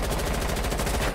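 Rapid automatic gunfire from Rainbow Six Siege: a short, evenly spaced burst of close, loud shots that fills the whole moment.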